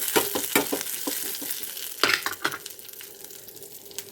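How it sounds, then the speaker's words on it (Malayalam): Chopped onion and curry leaves fry in a pan with a soft, steady sizzle, broken by sharp scraping strokes as they are stirred. "നമ്മൾ ഉള്ളിയും കറിവേപ്പിലയും കൂടെ നല്ലപോലെ മൂപ്പിച്ച്"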